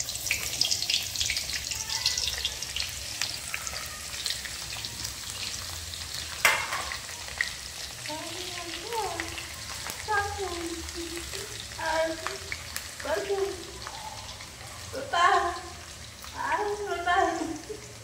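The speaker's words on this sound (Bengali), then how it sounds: "কড়াই গরম হয়ে গিয়েছে, এবার দেব তেল। হয়ে গিয়েছে, এবার দিলাম রসুন কুচি।" Chopped garlic sizzles in hot oil in a wok for a tarka, a close, steady frying hiss with occasional stirring, while a voice talks over it in stretches.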